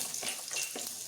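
Cashews and ginger roast in a pan for a vegan stuffed mushroom gravy, giving a brief soft sizzle with a few stirring swishes, close and fairly quiet.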